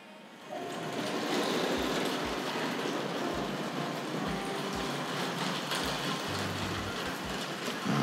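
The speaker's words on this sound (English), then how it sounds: "So that caboose is quite clattery over the point works." Hornby Dublo model train caboose clattering over the point work of a layout, giving a steady rolling rattle with repeated low knocks as the wheels cross the joints, close and continuous.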